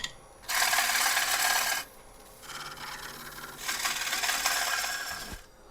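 A woodturning scraper rasps against figured English walnut spinning on a lathe, in two long, loud scraping passes separated by a quieter pause, close and alone without talk.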